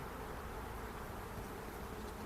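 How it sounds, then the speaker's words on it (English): Honeybees hum in a dense, steady drone around a hive, a faint continuous buzz with no voices. "these bees will want to go down to their main hive"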